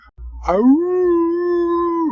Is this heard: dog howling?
yes